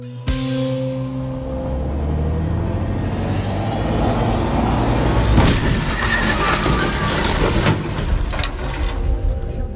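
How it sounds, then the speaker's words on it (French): A heavy truck slamming into a motorway signalling van during a crash test, a loud engine approach building to a sharp crunching impact midway, followed by scraping and crumpling debris noise. "Ce type de crash test permet de voir en fait l'impact que peut avoir un poids lourd sur un fourgon de signalisation."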